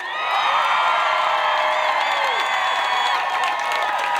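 A large Black Lives Matter protest crowd in Portland, Oregon cheers, whoops and screams loudly, many high voices layered into a sustained roar lasting several seconds.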